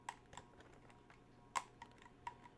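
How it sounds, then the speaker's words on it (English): Nail clippers snipping through plastic toy packaging: a series of small, dry clicks and snaps at an uneven pace, one louder crack in the middle, close by and fairly quiet. "I will go ahead and start working on clipping through that"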